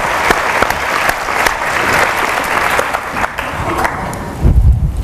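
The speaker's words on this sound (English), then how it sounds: "Can we have another round of applause, please" A large gathering's audience claps in a sustained, even burst of applause lasting several seconds, fading slightly toward the end as a low thump and murmur come in.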